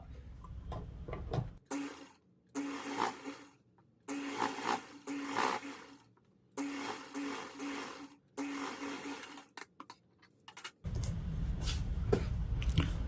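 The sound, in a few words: sewing machine stitching a folded blouse seam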